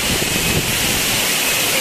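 Kebo Waterfall in Bali during rain, a steady broadband roar of falling water and rainfall filling the whole clip at close range, with faint voices beneath.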